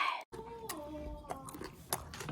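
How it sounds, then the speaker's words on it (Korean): Close, crunchy chewing of vegan dumplings with soft wet bites repeating over a couple of seconds, no talking. "씹는 소리 ASMR"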